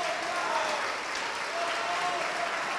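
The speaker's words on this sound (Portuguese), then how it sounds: "vamos aplaudir ao nome do Senhor" A church congregation claps steadily in praise during a Portuguese-language evangelical service, an even, moderately distant wash of applause with no talk over it.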